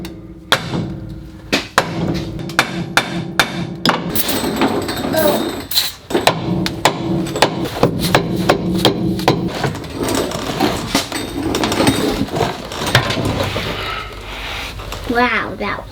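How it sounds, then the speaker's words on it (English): Hammer blows knocking out the drive shaft on a Chevy Silverado with a broken rear differential, a series of sharp metallic strikes in irregular rhythm at close range, with people talking throughout. "Because I gotta knock the drive shaft out."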